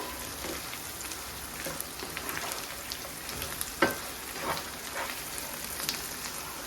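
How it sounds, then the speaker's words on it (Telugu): Chicken pieces coated in chilli powder frying in a pan, giving a steady, rain-like hiss and sizzle with an occasional stirring scrape, close and fairly quiet. "అట్నే ఒక ఐదు నిమిషాలు ఈ కారం ఫ్రై అయ్యే వరకు ఉంచుకుంటాం"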